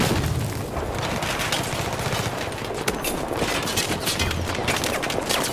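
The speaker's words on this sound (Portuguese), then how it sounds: "Opa, granada, ferrou." A grenade blast and sustained gunfire in Battlefield 4 combat, with loud overlapping shots and booms filling the whole stretch, dense and close, without any speech.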